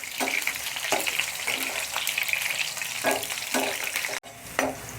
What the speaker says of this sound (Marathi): आणि हे कारले जे आहेत ना आपले सगळेच्या सगळे ना फ्राय करून घ्यायचे आहेत आपल्याला